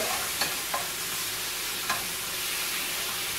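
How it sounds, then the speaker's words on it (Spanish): A spiced steak fries in a pan with a soft, steady sizzle while a utensil stirs it, scraping and knocking the pan a few times, fairly faint and with no talking. "Lo vuelve a revolver."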